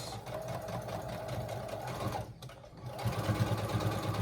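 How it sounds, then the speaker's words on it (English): A sewing machine stitches T-shirt fabric with a close, steady mechanical whir and rapid needle rhythm, pausing briefly partway through before running again. "And then start sewing."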